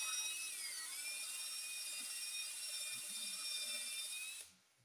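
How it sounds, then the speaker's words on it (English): A power drill spinning a steel wire brush attachment to clean rust from Honda snowblower auger parts, a steady high whirring drone heard up close and alone that runs continuously, then cuts off at the very end. "a steel brush. I do this all the time. So I've got this attachment on my drill,"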